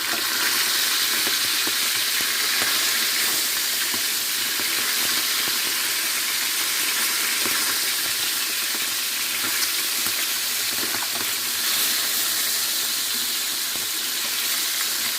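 Pieces of mackerel, a sea fish, deep-fry in hot oil with a loud, dense, unbroken sizzle and bubbling, close by and steady from start to finish.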